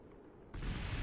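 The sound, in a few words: rocket fairing exploding in the video game Kerbal Space Program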